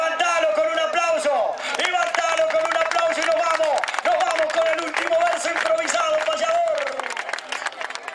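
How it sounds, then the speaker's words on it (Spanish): Crowd applause and cheering at a rodeo and gaucho tradition festival in the municipal grounds of General Alvear, Buenos Aires, a sustained wash of clapping under a loud announcer's voice and background music. "Levantalo con un aplauso."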